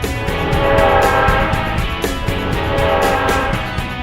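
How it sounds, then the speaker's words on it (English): A Union Pacific eastbound train rumbles past close by, a steady loud roar of rolling cars with horn tones sounding over it throughout. "We got a Union Pacific eastbound coming through."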